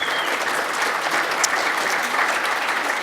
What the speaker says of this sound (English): Round of applause for Charles, please, people